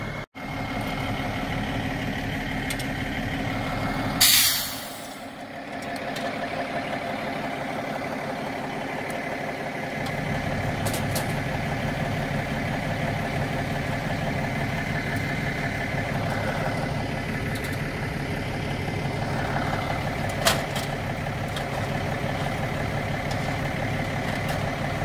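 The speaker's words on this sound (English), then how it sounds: "this is the new tractor for the hay storage" A heavy diesel semi-truck tractor idles steadily nearby on a farm, a deep continuous rumble broken by a brief sharp clatter and a faint later click.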